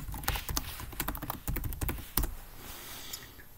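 Typing on a computer keyboard, a close run of quick, irregular key clicks with a few louder taps, thinning out toward the end.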